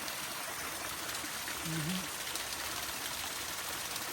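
Steady broadband rush of flowing stream water runs throughout, with a brief faint voice-like murmur partway through.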